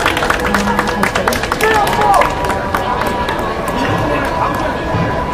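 Clapping from a crowd at a street rally: scattered, uneven hand claps mixed with loud voices and crowd babble, with the crowd noise staying busy throughout.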